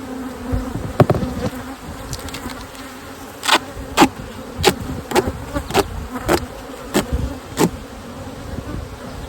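Honeybees buzz busily around stacked hive supers, a continuous drone with repeated loud passes as individual bees zip close by, the nearest ones rising sharply and fading, no talk.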